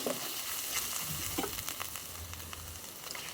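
Turmeric and spices fry in a pot while beef haleem is being prepared, giving a soft, even sizzle with light stirring scrapes, quiet and continuous, with no speech.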